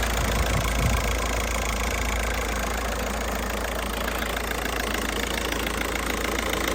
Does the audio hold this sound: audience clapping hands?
no